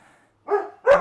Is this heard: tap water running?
no